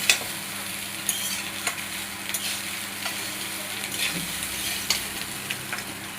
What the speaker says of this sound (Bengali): ভাতগুলো দিয়ে অনবরত নাড়তে হবে তাহলে সবজিগুলোর সাথে ভাতটা ভালোভাবে মিক্স হয়ে যাবে